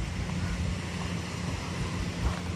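Choppy sea waves washing along the Manila Bay shoreline after a super typhoon, a steady low rushing surge of water with wind noise, moderately loud and without speech.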